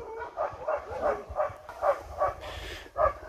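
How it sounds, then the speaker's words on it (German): Caged huskies bark at a husky farm in Finland, with about ten yelping barks in a steady, fairly regular series at moderate distance. "um die Hunde da im Käfig zu sehen."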